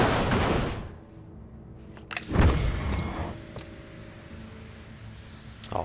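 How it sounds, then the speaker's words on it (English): A flashbang grenade detonates in the video game Alan Wake: one sharp, loud burst with a rushing, ringing tail, following a rumbling start and low ambient noise. "Gonna drop a flashbang in there"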